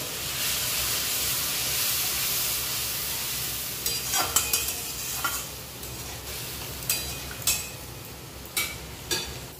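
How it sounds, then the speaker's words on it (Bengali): Ground spices (cumin, coriander and turmeric) sizzle and fry in a pan with a little water, making a constant loud hiss while a spoon stirs and scrapes against the pan several times toward the end. "মশলাটা কষানোর জন্য দিয়ে দেবো হালকা জল"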